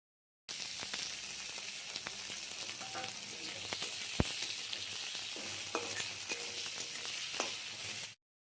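Grated ginger and chopped potatoes fry in a pan, a continuous close sizzle with occasional stirring scrapes and one sharp knock partway through.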